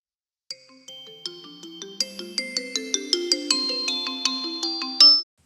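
A phone ringtone plays a bright, rising chime melody, its tones repeating and growing louder over a few seconds, alone in silence.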